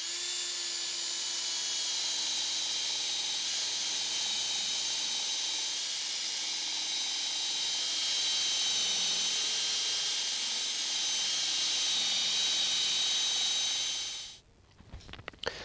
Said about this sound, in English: So I'm going to use a buffing wheel on the drill, and it should buff up really nicely.